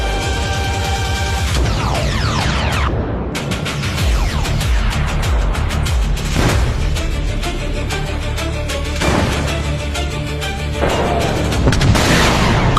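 A loud explosion in the air during an aerial combat scene, heard as sustained, dense booming and rumbling with repeated blasts layered over a constant roar throughout.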